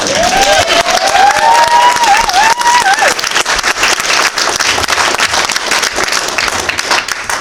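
At a Comic-Con cosplay championship, a crowd applauds cosplayers on stage with loud, dense clapping and some cheering. A voice whoops over it early, then the applause carries on strongly to the end.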